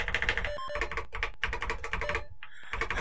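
Rapid, irregular clicking of keys on a Toshiba Pasopia retro computer keyboard, close and continuous with only brief pauses.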